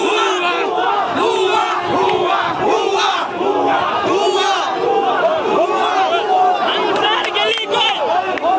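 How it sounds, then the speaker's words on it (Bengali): Students from Dhaka University and elsewhere chanting protest slogans near the Secretariat, a large crowd shouting in loud, continuous rhythmic unison, with voices layered densely throughout. "শিক্ষার্থীরা স্লোগান দিচ্ছেন"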